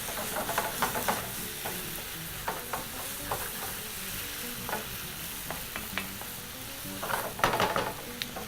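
Carrots and other vegetables cooking in a hot pan, a steady sizzle with irregular scraping stirs and clicks, which grow busier toward the end.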